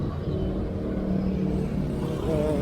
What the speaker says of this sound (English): The traffic has not subsided.